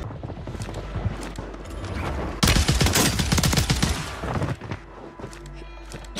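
The DTIR 30-06 rifle fires in Warzone as rapid loud cracks, first a few scattered shots, then a dense burst of gunfire with clattering mechanical sounds.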